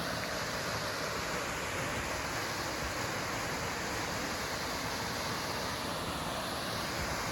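A continuous, dense roar of a large waterfall on Glacier National Park's Otokomi Lake Trail, loud and unbroken throughout, heard from nearby.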